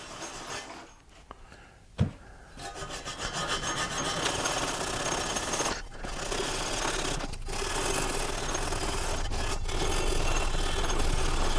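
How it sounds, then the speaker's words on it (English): A soft scrub pad is rubbed around the exhaust manifold surface of a 2008 Pontiac Grand Prix, a steady, loud rasping scrub with brief breaks and a knock early on, no speech. "Take a soft scrub pad. Just give it a few times around."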